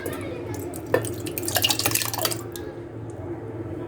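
Sour yogurt, with its own whey, is poured into a blender for borhani, giving a brief wet splatter and glugging with a small knock near the start, close and moderately loud.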